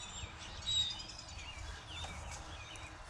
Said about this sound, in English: I'm sure all you guys are hearing are birds.